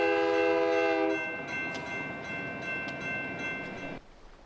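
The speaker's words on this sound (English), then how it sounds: "Look for the train." A train passing a railway crossing, its loud sustained horn blaring for about a second before the rumble and rattle of the rolling cars carries on, then cuts off abruptly near the end.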